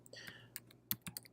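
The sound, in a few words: typing a web address on a computer keyboard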